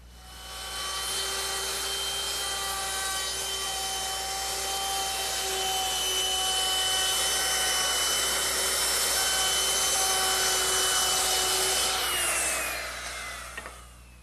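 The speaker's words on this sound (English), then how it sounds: "I'm rounding over the top edges of the seat slats using the same 1/4 inch rounding over bit" A router fitted with a 1/4 inch roundover bit rounds over the top edges of garden chair seat slats, giving a loud, steady high-pitched whine with a woody cutting rasp that runs unbroken for about eleven seconds, then spins down.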